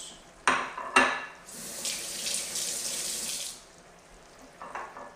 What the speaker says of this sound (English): Let me just wash my hands for a second.